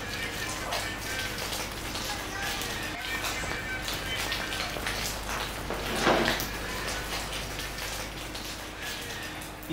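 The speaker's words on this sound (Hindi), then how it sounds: "बारिश हो रही है इस टाइम बड़ी ज़बरदस्त किस्म की" Heavy rain pouring steadily in Shogran valley with gusting wind, a dense continuous wash of drops close by, with brief voices in the background.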